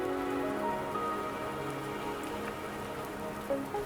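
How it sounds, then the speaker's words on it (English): Steady rain patters across a surface in the video game Wuthering Waves, a continuous even hiss mixed with soft sustained tonal music throughout. "the rain won't last much longer"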